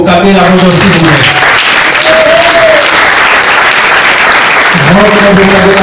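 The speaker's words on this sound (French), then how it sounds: "Est-ce qu'on peut vraiment applaudir pour Rocco Bocabé la Rosa, s'il vous plaît?" An awards ceremony audience honouring Simba group artists bursts into loud, dense applause for a guest being introduced. Sustained clapping fills the whole stretch, and a voice rises over it at the start and end.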